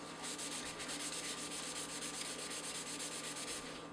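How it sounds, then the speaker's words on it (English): Ceramic sharpening stone being scrubbed with abrasive during cleaning, a steady gritty rasp with fast back-and-forth strokes, close and continuous but fairly quiet. "You can hear it when the abrasive is working."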